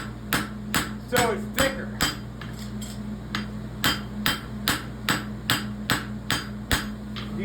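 Rapid, evenly spaced metallic hammer blows ring out as the round side of a hammer works the toe of a horseshoe for a pony roadster, over a low steady hum, with brief speech in between.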